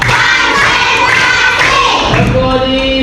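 A classroom group claps hands in counted rounds. Dense, loud thuds and slaps run continuously, and a voice sounds over them.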